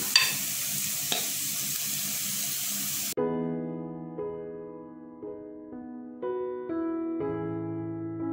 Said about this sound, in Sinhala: දැන් මම මේකට සීසන් වෙන්න තිබ්බ මස් ටික